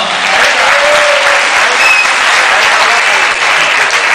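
A show crowd at a performance applauds loudly and continuously, a thick unbroken roar of clapping that stays at full strength throughout.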